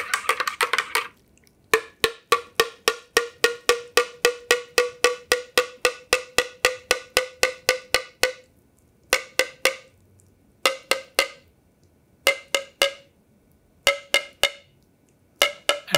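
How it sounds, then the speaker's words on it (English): Metal spoon tapping the bottom of a mug of freshly stirred hot chocolate, a long run of quick, evenly spaced clinks with rising pitch, then shorter bursts of taps separated by pauses, close and clear with no talking. "I'm stirring, and then I'll tap the bottom of the mug."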